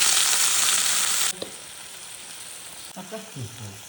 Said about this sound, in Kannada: ಇವಾಗ ಲಿವರ್ ಫ್ರೈ ಹಾಕ್ತಾಯಿದ್ದೀನಿ.